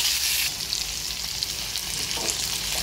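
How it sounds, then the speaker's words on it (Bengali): Paneer pieces fry in a pan, a close, continuous hiss of sizzling oil, louder at first and then settling into a steady crackle. "পনির হালকা লাল লাল ভেজে নেব"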